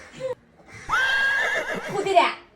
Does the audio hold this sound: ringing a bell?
no